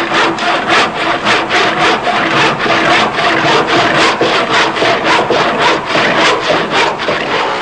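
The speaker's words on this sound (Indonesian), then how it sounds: "Kedua gergaji ini melakukan pekerjaan yang sama, memotong kayu." A hand saw cuts through wood in steady, rapid back-and-forth strokes, a loud rasping scrape repeating about twice per second, close up and alone.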